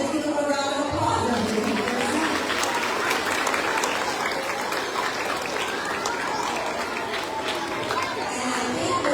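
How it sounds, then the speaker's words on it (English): School assembly audience applauding steadily for several seconds, a dense wash of clapping with children's chatter and shouts mixed in, loud and close throughout. "Let's give them a round of applause."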